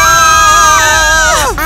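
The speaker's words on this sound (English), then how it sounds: "I love hearing people scream!" People scream in high, sustained, strained voices that hold their pitch, then break into a sharp falling cry at the end, loud and close.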